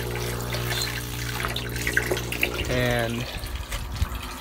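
In an aquaponics setup, an aerator and water pump bubble and trickle steadily into the tank water, a continuous gurgling hum with a brief louder surge; someone talks over it.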